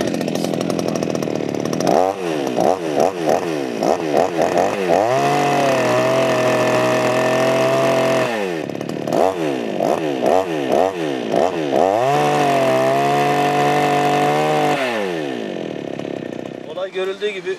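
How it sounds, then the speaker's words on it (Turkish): A Hyundai chainsaw, just driven over by a three-ton car, runs loudly nearby, revving up and down repeatedly between two long sustained high-throttle whines. "3 tonluk arabayla üzerinden geçtim ve hala Hyundai testere sapasağlam çalışıyor"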